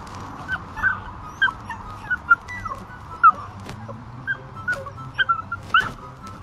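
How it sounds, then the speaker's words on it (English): A puppy whimpers and whines in short, high, scattered cries, some thin and whistle-like, sounding close but fairly soft over a quiet background. "Watch my puppy fake a broken leg."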